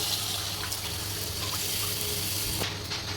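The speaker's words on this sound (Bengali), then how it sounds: "এখন জল দিয়ে দিই" Water pours steadily into a pan of fish curry masala, a continuous close splashing flow throughout, with a brief clink partway through.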